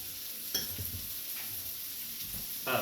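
Fat sizzling in a hot pan, a steady bright hiss throughout with a few soft clicks and scrapes of stirring, close and fairly quiet, with no voices.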